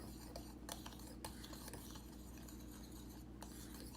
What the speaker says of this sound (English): Okay, so you want to mix it really well.